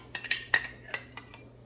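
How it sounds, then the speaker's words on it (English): A spoon scoops tomato sauce over manicotti in a baking dish, producing a handful of light, close metallic clinks and taps against the dish, irregularly spaced over a quiet background. "Now I'm gonna use my spoon to spoon just a little bit more sauce on top"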